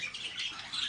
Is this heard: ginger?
no